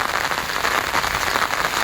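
Rain pours down in a riverside village, a dense, even hiss of drops striking surfaces, loud and continuous with no voices.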